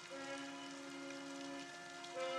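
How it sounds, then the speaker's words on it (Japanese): Rain falls steadily at a wartime army position, a continuous soft hiss beneath a sustained low tonal drone, with no voices. "この雨はやみそうになく"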